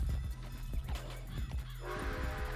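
A horse in Red Dead Redemption 2 neighs and whinnies loudly at close range, with hoof clip-clops and game ambience mixed in, ending on a sustained tonal call.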